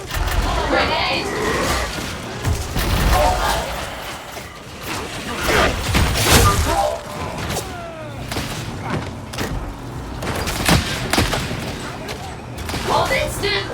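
Warhammer 40k Darktide gameplay combat, with a grenade blast and rapid bursts of gunfire, thuds and mechanical clatter, while voices call out over the steady barrage.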